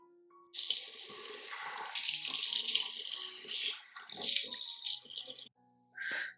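Bathroom tap running into a sink during face washing, a bright splashing water stream that starts abruptly, shifts with hand movements, stops briefly, then returns in a short final burst.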